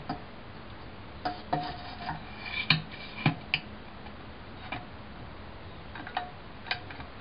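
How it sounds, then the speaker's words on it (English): Light metallic taps of a hammer on a Briggs and Stratton carburetor part strike at irregular intervals, a dozen or so sharp clicks over a faint scraping background, close and fairly quiet. "just hit the end with a hammer a little bit and it should pop right off"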